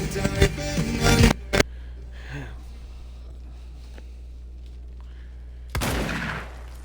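Gunfire in the action video game Control, a short loud burst of shots at the start, followed by quieter game ambience and a later burst of noise, with a voice talking over parts of it.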